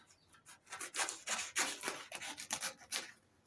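A Stanley blade scrapes across the tailgate of a 1970 MGB GT during badge work, giving about a dozen quiet, rhythmic rasping strokes close by with no talking.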